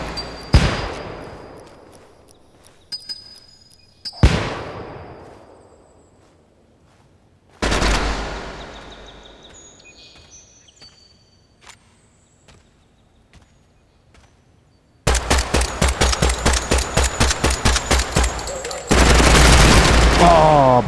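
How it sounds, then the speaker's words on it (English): Grenade blasts and gunfire in the shooter game Project Silverfish: several booming explosions with long decaying tails, followed by a loud burst of rapid automatic fire and sustained dense shooting near the end. "Oh fuck, grenades coming."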